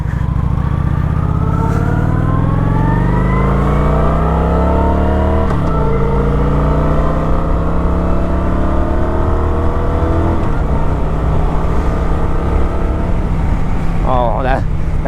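A 2021 Kawasaki Vulcan 900 cruiser motorcycle rumbles steadily on the road, its engine harmonics rising and shifting through gear changes. The tone stays loud and continuous throughout, and a voice talks over it.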